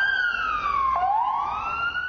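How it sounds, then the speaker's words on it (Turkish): An ambulance siren wails at a traffic accident scene where a motorcycle courier collided with a car, one loud sweeping tone dipping and rising again, heard alone. "Yaralanan iki kişi ambulansla hastaneye kaldırılıyor."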